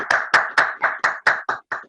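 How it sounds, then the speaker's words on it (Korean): Clapping at an online conversation meeting about Palestine: eight sharp, evenly spaced claps, close and clear, like a single pair of hands rather than a crowd. "큰 박수 한번 부탁드리겠습니다"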